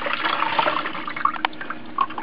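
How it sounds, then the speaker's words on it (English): Water drains from an undersink filter housing (US-1500 system) after it is unscrewed, a steady splashing pour with a few sharper drips and gurgles near the end. "Drain the water."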